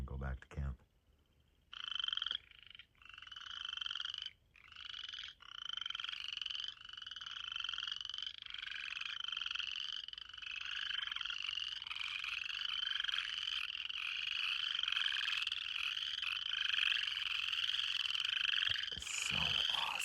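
Frogs croak in a dense, continuous pulsing chorus at night near water by a camp, loud and close, building steadily after a few brief early calls.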